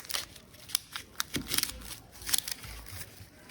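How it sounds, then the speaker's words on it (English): A knife cuts down through an onion on a board, giving a series of crisp, close crunches and taps at an irregular pace with quiet gaps between strokes. "cut down through the onion"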